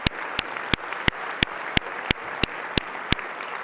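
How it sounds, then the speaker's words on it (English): An audience at a college's annual State of the College address applauds its board members. Sharp, evenly spaced claps from one person near the microphone ring out over a softer, steady bed of crowd clapping. "Let's give them a round of applause."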